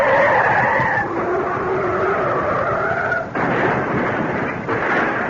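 A car in a radio drama skids with a long, loud, wavering tire screech, followed by a crash and further rough impact noise, heard close and with no talk.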